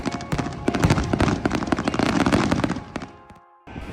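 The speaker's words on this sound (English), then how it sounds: "The night ended with an awesome fireworks display" A nighttime fireworks display at a campground near a racing venue in Pennsylvania crackles with dense rapid bursts and pops, a busy rattling barrage that fades before a final burst.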